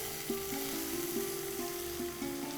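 Chopped vegetables such as baby corn and beans stir-fried on a high flame for a Chinese-style dish, giving a steady close sizzle with faint scraping of the pan and no talk.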